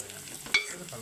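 A hot frying pan sizzles as chili powder is added, with a single brief clink of a utensil midway over the low frying hiss.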